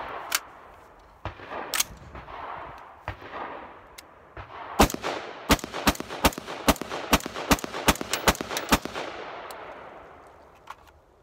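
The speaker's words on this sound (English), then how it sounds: "10 rounds. We'll do them rapid." Ten rapid gunshots from a Delta Level Defense firearm loaded with worn, old brass, fired outdoors; a few spaced single shots precede a fast, evenly paced string of sharp, loud cracks that fade with ringing echo.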